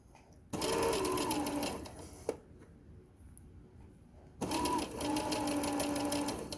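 A sewing machine stitches the hem of a tote bag in two steady runs of motor whir, separated by a quieter pause with a single click before stitching resumes, close and loud.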